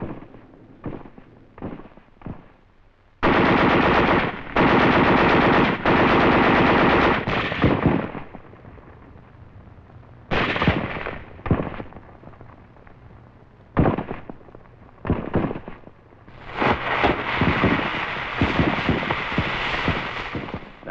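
Automatic machine gun fire and heavier gunfire crackle in long sustained bursts with short single shots between, during World War II combat against fortified hillside caves and pillboxes on Okinawa, loud and close with no talk.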